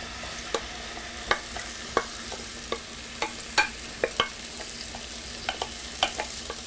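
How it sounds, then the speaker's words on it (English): Vegetables stir-fry in corn oil in a hot skillet, a steady soft sizzle broken by repeated sharp scrapes and taps of a utensil as they are tossed, with no talking. "I want to stir fry this to cook the vegetables until they're kind of crisp tender"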